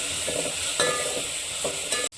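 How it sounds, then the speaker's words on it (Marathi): Peas and field beans being sautéed in a hot pan, a close continuous sizzle with a few quick stirring scrapes, ending in a sudden clack and brief drop. "आपण हे जे वाटाणे पावट्याचे जे दाणे घेतले होते ते आपण त्यामध्ये घालून घेऊया आणि परतून घेऊया"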